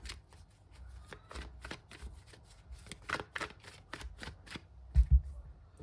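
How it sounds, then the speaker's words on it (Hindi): Tarot cards are shuffled by hand in a quiet room, giving a quick run of crisp riffling flicks and soft slaps that ends with two firmer taps. "और कार्ड्स लेते हैं।"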